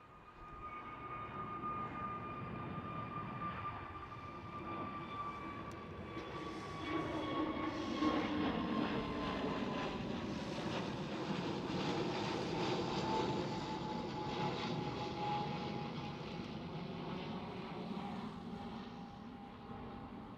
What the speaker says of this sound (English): right here is one of those brand new A321neos of Transavia